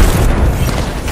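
Frag grenade explosion in the Apex Legends video game, one loud, close, booming blast that fills the whole short moment.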